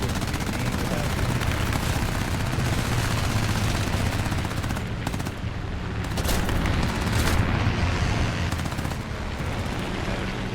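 Machine gun fire in the air combat game War Thunder, dense and loud sustained bursts rattling almost continuously over a roaring engine drone, with brief gaps between volleys.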